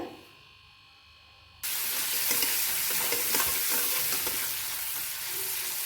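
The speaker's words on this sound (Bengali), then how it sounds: "পেঁয়াজটা কিছুক্ষণ লাল লাল করে ভাজা ভাজা করে নেব" Chopped onion drops into hot oil in a pan with dried fish, a quiet moment giving way to a sudden loud, steady sizzle and crackle with stirring, close up and without voices.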